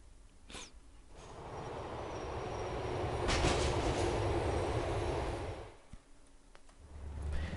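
A train passes in the video game GTA IV, a steady rumbling, rattling roll that swells and holds for several seconds, dips briefly, then rises again, with a couple of sharp clicks and no talk.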